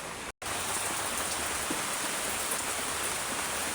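Heavy rain falls in a constant hiss, pattering on surfaces close by, steady and fairly loud after a split-second gap near the start, with no voices.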